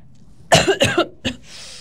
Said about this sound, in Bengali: খুবই দুঃখিত, আরেকবার কাশি দিলাম